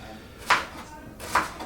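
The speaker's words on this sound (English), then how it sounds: "I've peeled the onion, and all we got to do is chop very regularly" Two separate knife chops cut a peeled onion into rings for onion soup. Each is a short, crisp thud about a second apart, close by, with quiet room noise between them.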